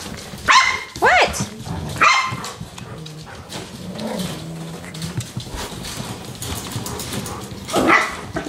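Several dogs play together indoors, giving sharp barks, yips and whimpers at irregular intervals over a busy, noisy background, close to the microphone.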